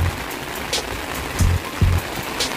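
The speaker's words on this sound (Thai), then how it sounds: "เดี๋ยวนี้ฝนตกนะคะ" Rain falling at a campground in Dan Chang, Suphan Buri, Thailand, with tents pitched: a steady soft wash of rain fills the scene, broken by a few low thuds of drops or movement nearby, and no talk.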